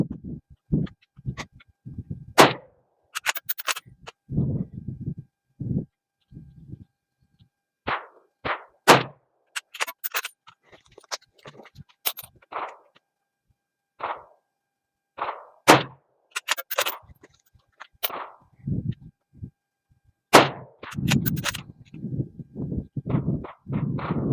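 Repeated sharp reports from a Ruger Precision .308 rifle firing IMR 4064 handloads at a range, loud impulsive cracks spaced irregularly across the span with quieter thumps and handling noises between shots.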